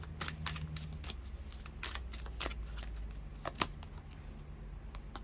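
Tarot cards are shuffled and drawn in a string of crisp, quick riffling flicks and snaps, close and fairly quiet, with no talking.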